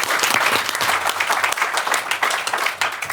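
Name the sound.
big round of applause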